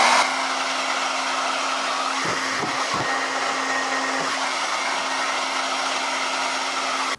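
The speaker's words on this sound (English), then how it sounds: "I'm just gonna go in with the blow dryer and just kind of go in with all the rest of my hair" A blow dryer drying hair during an at-home blowout gives a loud, steady close whine with a constant hum, broken by a few brief dips as it is moved, with no talking.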